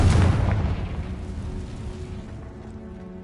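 A game spell blast from Hogwarts Legacy, a single loud, deep boom that opens the moment and then fades into a long rumbling decay.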